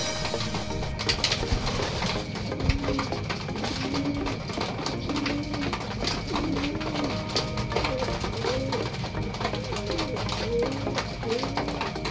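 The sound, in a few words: pigeons cooing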